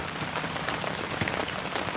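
Steady rain falling on a vegetable garden with jalapeno plants, a dense close hiss of drops spattering on leaves and soil, with a few louder individual drips, continuous and without talk.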